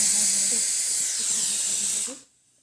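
A pressure cooker lets off a steady, fairly loud hiss of escaping steam for about two seconds, then cuts off abruptly into near silence.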